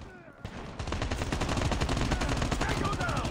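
A submachine gun in Call of Duty Mobile fires sustained automatic bursts after a brief opening shot, a loud, dense rattle of rapid reports running to the end.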